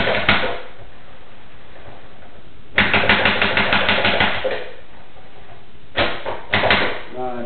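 A knife chops hot peppers finely on a board in quick rhythmic bursts, with pauses between runs and a voice briefly speaking.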